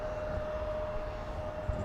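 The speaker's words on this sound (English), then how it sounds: "United Airlines heading to San Francisco, taxiing to the north side." A United Airlines airliner taxis at Munich airport, a steady distant engine roar with a thin constant whine, even and unbroken from start to finish.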